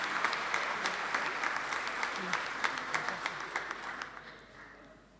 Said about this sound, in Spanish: Renovamos el aplauso, felicitaciones para todos los integrantes de la Cruz Roja de Santa Fe.